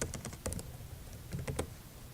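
Computer keyboard typing comes in two short bursts of quick, faint key clicks with a pause between, close and soft.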